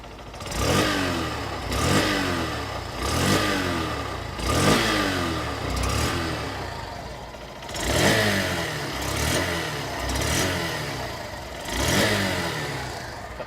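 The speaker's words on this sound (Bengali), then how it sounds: "চলুনের ইঞ্জিন ও এক্সস্ট সাউন্ডকে একবার শুনে নেওয়া যাক" A 2025 Honda Shine 100 DX motorcycle engine and exhaust, blipped through a series of about nine quick revs that rise and fall in steady rhythm, close and fairly loud over a low, quiet idle.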